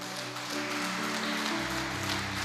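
A church congregation applauds during a celebration service, a soft continuous patter of clapping heard at a distance beneath sustained music.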